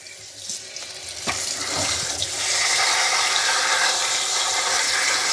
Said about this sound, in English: And then get your sprayer.